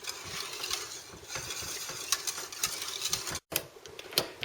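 Steady metal whisk scraping and stirring milk and cream sauce in a pan over very low gas heat for a baked macaroni pasta dish, a continuous soft rhythmic clatter close by with no talking.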